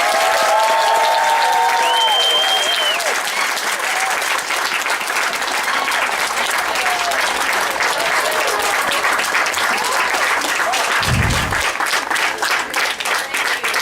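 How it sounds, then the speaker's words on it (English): A crowd at an outdoor citizenship ceremony at Manassas National Battlefield Park applauds new American citizens, a loud, dense, sustained clapping that fills the whole stretch, with some cheering and a brief whistle early on. "Please, let's have a round of applause for America's newest citizen."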